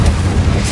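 A loud, dense burst from the Confringo explosion spell in the video game Hogwarts Legacy fills the short moment with a heavy, low rumbling boom.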